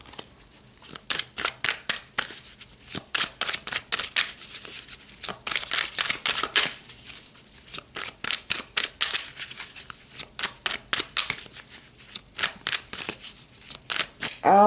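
Tarot cards being shuffled and pulled, a dense run of quick riffling, flicking and slapping card sounds in rapid bursts, close and fairly loud, with no talking.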